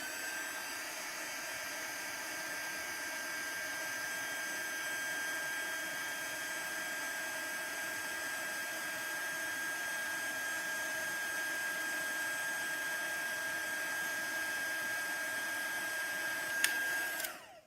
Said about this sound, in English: And here we go again with the heat gun.